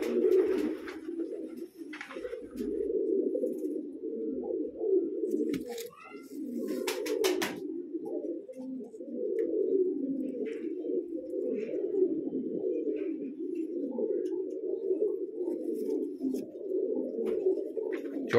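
Large pigeons in Bijnor district, Uttar Pradesh, coo steadily and continuously at close range, a low, soft, rolling murmur from several birds, with a few faint chirps and brief rustles over it.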